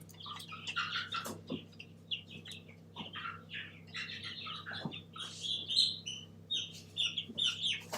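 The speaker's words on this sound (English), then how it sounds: "Let me go get the rooster." Backyard chickens and a young rooster cluck and chirp near a garden, with scattered short calls, some sharp knocks and a low steady hum underneath, and no talking.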